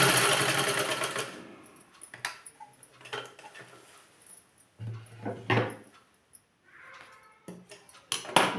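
A sewing machine stitches a ladies' trouser in short, uneven bursts, its whirring runs broken by pauses and light mechanical clicks and clatter, with no voices.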